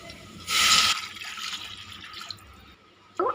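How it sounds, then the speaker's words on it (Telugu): Water is poured over rice and toor dal for khichdi in a kitchen pot, a loud splashing burst near the start followed by quieter trickling and a short final splash. "two and half glass water పోస్తే సరిపోతుంది"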